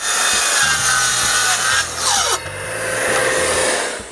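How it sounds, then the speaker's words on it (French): A circular saw whines steadily while cutting through wooden 2x8 boards, with a rising and falling pitch as the blade bites, loud and close, no voices. "je me suis arrangé avec ma scie circulaire"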